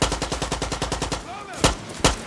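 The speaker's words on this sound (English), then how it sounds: "Hey, stop shooting!" Rapid automatic gunfire rattles in a steady burst in the video game Far Cry 6, followed by a few single loud shots, close and sharp.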